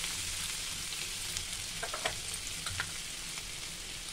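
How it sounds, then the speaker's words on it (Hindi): Boiled potatoes frying in a pan for an aloo besan sabzi, a continuous close sizzle with a few brief crackles and stirring clicks, no speech. "आलू को भून लेंगे पहले"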